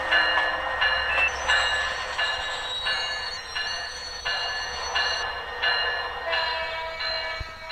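A passenger train in a Bangladesh train simulator game rolls slowly in reverse, its engine humming steadily under faint rhythmic wheel clatter and the occasional high squeal, with no voices.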